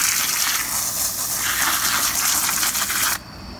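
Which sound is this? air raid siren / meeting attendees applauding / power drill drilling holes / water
water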